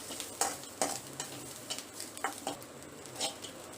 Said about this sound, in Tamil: தேங்காய் போட்டு லைட்டாக வறுத்துட்டு